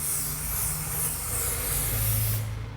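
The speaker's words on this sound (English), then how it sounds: "I'm just going to do a little light spray of hairspray just to hold it in place." Sebastian Shaper Zero Gravity lightweight hairspray sprayed onto a styled pixie crop, one steady close aerosol hiss lasting over two seconds before cutting off abruptly.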